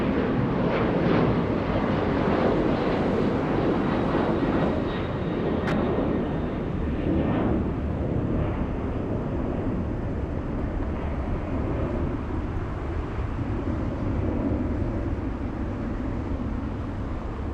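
A Delta airliner takes off at Hartsfield-Jackson Atlanta airport, its engines roaring loud and steady throughout with a broad rumble and a faint whine, no talk over it.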